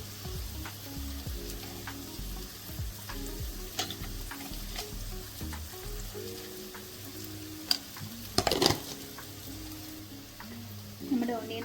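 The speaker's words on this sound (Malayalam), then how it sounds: "ബട്ടർ മെൽറ്റായി വരുമ്പോഴത്തേക്കും ഓണിയൻ അരിഞ്ഞ് വെച്ചിരിക്കുന്നത് ഇട്ട് കൊടുക്കുക." Chopped onion frying in melted butter in a pan, a steady close sizzle with occasional stirring scrapes and a few louder clatters toward the end.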